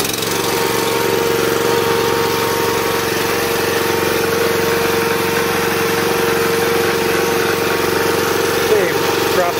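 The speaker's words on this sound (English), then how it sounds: "Starting a Honda is never much of a problem." A Honda engine on a homemade 30-ton log splitter runs steadily, a loud, continuous mid-pitched hum and drone with even vibration throughout, heard alone.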